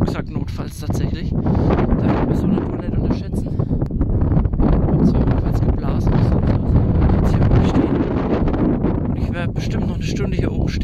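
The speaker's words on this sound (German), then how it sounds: "Das ist jetzt hier oben richtig zugig. Jetzt ist es auch kalter Wind." Cold night wind on the Schneeberg summit roars and buffets the microphone continuously and loudly, gusting throughout.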